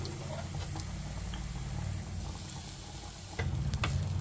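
Hot rice stirred into a fried mixture in a pan for a kids' lunch box, a steady low sizzle with scraping stirs and a louder bout of mixing near the end.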